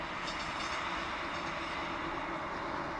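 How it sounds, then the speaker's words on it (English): A distant Northern passenger train rumbles past as a steady, broad wash of noise, faint and continuous throughout with no voices, heard at a nature reserve. "So there's a northern train going there."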